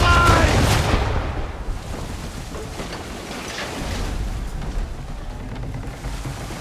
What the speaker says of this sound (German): Die Salve ging vorbei